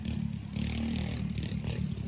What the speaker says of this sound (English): our neighbors are riding dirt bikes